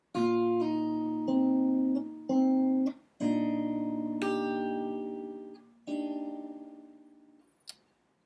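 Guitar notes picked one after another and in small clusters, a short fingerpicked measure of a song with notes ringing into each other, ending on a soft tap.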